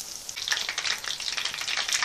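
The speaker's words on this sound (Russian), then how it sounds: "Вот такое вот у нас шипение шкварчание." Belyashi meat pastries fry in hot oil, giving a steady bright crackling sizzle with dense popping, close and continuous.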